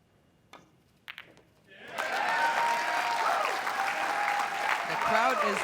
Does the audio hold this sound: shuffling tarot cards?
no